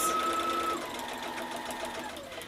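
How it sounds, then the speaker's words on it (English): A sewing machine stitches the seam of a quilted Christmas stocking, a steady close mechanical whir with a brief change as it locks the stitches back and forth, with no talking. "Couple stitches forward, couple stitches back, couple stitches forward, and that just locks those stitches."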